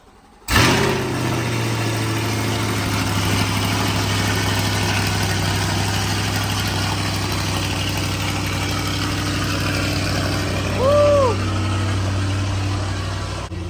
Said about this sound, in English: it's time for a little bit of a cold start.